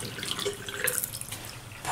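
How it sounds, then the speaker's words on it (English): Tap water runs onto a shaving brush at a sink, a steady splashing hiss with small drips and shifts as the brush moves under the stream, close and unaccompanied by talk. "here's the brush, and just gonna put some water on it"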